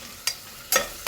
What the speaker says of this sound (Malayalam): സവാള മൊരിഞ്ഞ് വന്നിട്ടുണ്ട്